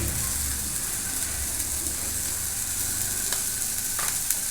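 Mango pieces sizzle and fry steadily in hot oil with turmeric and chili powder, a dense continuous crackle with occasional sharper pops and stirring scrapes, close and alone with no talk.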